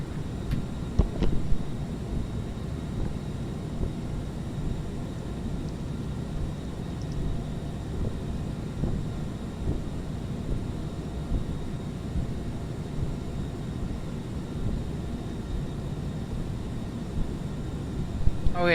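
A Falcon 7X jet engine sound pack in a flight simulator gives a steady, low, broadband engine drone, like in-flight cabin noise, that holds evenly throughout without pause.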